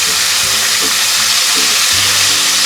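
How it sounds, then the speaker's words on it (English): Fish fillets dredged in flour fry in a pan of hot oil, giving a loud, continuous crackling sizzle that fills the whole stretch, with low utensil clunks beneath it and no talking. "So flip all the sides to also fry the other side."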